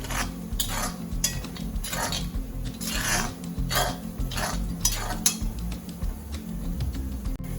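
A utensil scrapes and clinks against a pan in repeated rhythmic strokes as chili powder and onions are stirred and fried for an Andhra-style egg curry, with no talking.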